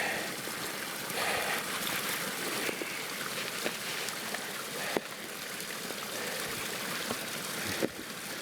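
Water rushes steadily through a gold sluice box outdoors, a continuous broadband wash with occasional knocks of rocks being raked off.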